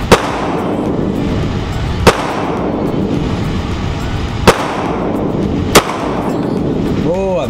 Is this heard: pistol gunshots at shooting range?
yes